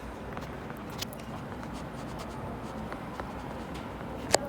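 A math function written out by hand, with soft, continuous scratching of a pen across paper, faint and close, and a sharp tap near the end; no talking.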